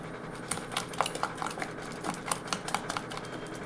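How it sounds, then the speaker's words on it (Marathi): Jaggery and wheat flour batter with a little soda whisked in a bowl, giving a quick run of light clinking, tapping strokes at a steady rhythm, close and moderately quiet, with no talking. "याला छान मिक्स करून घ्यायचं असं फेटून घ्यायचं छान"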